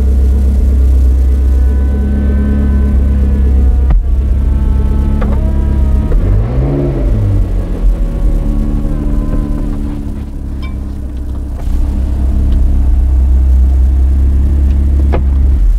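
A 2013 McLaren MP4-12C Spider's engine running close by, a loud steady low rumble with a rising and falling rev partway through before settling back to a deep idle.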